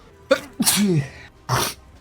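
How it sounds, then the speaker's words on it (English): A person sneezes in a quick sharp burst, then lets out a second, breathier sneeze-like exhalation moments later, close and loud. "I don't know why I have the sneezes"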